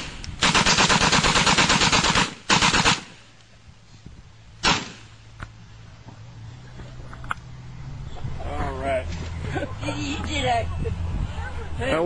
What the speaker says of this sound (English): This is a machine gun toting, lead slinging granny.